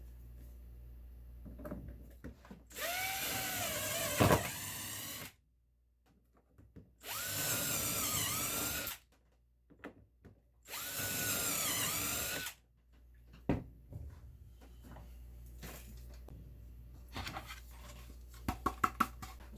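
A power drill bores shelf pin holes through a Rockler JIG IT shelving jig in three loud, steady bursts of about two seconds each, with quiet handling clicks and taps between and after them.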